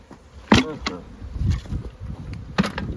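Honeybees buzz loudly in sudden bursts as the hive is shaken to clear it of a false queen, with a dense swarming hum in between and a brief human sound.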